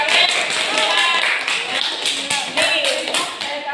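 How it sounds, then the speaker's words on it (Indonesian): Classmates clap in a classroom, a dense patter of quick hand claps that carries steadily through the whole moment, with voices mixed in underneath. "Bagus, tepuk tangan."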